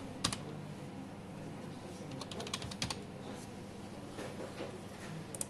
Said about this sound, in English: Type the name of your library.